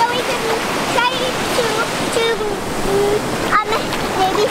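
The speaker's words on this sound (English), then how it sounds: "I'm going to pour it inside the crab hole so we can try" Water rushing and splashing on a beach as it is poured into a crab hole, a steady close wash of noise with people talking and calling over it.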